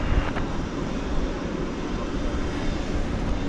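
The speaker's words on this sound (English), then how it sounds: "That is a Saab 340B there right in the center of your shot" A Saab 340B turboprop airliner at an airport drones steadily with a broad low engine roar, fairly loud and unbroken, with no talk.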